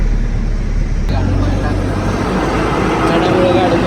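A loaded truck carrying Tasgaon raisins labours up a ghat climb, its engine giving a steady heavy low drone close by, with someone talking over it throughout.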